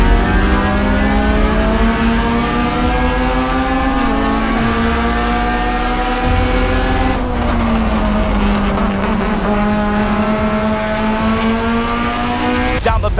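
Race cars, including a Honda Civic EG, accelerate together off a green-flag start, a loud, continuous layered engine roar with rising harmonic whines that climb and shift through gear changes for the whole stretch.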